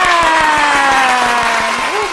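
Rhythmic hand clapping from a small group runs steadily under a person talking during a skincare talk with a doctor, the claps quick and evenly spaced.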